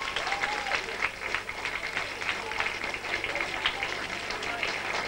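At a 1991 school Christmas cabaret dinner, an audience claps for the catering staff in a sustained crackle of applause, with voices talking underneath and a low steady hum in the background.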